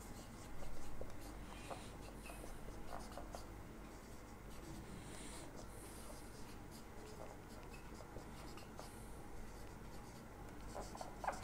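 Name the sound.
writing math on a board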